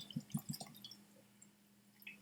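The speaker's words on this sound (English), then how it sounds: "I will pour a 2-ounce quig-sized dram" Whisky, a Glenrothes 20-year Speyside single malt, drips and trickles into a small plastic cap, with a quick series of close, distinct drip plinks followed by quieter liquid sounds.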